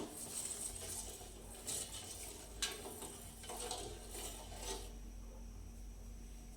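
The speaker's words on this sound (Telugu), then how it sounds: "ఇప్పుడు ఈ షుగర్ అనేది అడుగు మాడకుండా ఉండడానికి ఒకసారి కలుపుకుందాం ఇలా" Sugar being stirred into milk in a pot with a spoon, a soft rasping scrape against the pot bottom, with a few light clinks, steady and close with no talking.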